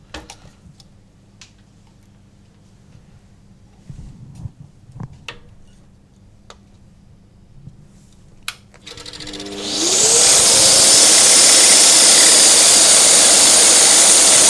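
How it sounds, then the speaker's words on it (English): Scroll saw with a spiral blade cutting a wooden coaster: scattered ticks and taps at first, then the saw starts and runs as a loud, steady buzzing whine close by. "And just sending that spiral blade around that square shape."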